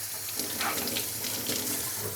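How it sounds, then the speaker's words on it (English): Tap water runs steadily into a container in a kitchen sink, splashing and rinsing mold out, with a continuous close hiss. "Kind of wash the mold out of there."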